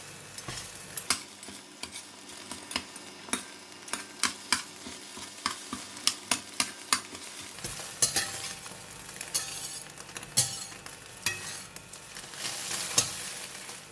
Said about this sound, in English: So when egg is cooking, I'm going to break it into pieces.